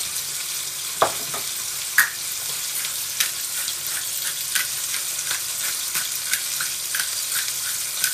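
Chicken sizzling in a hot pan with a steady crackle, broken by a few sharp clanks and scrapes as the pieces are flipped; no one talks.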